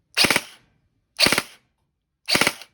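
A G&G CM16 Raider L2.0E airsoft rifle fires three evenly spaced bursts, each made of three rapid, sharp, close-up snaps with silence between them.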